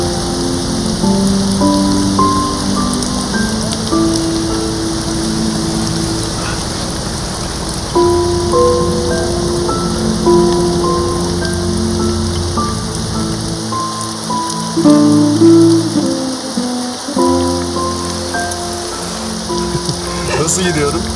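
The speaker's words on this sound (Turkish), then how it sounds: "Sen yağmuru sevenlerden misin?" Steady rain falling on surfaces, a continuous soft hiss and patter that runs the whole length, with a gentle melodic music score playing over it.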